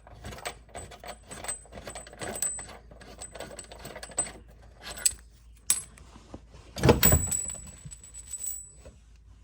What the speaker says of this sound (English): So let's pull that old Heim joint out of there.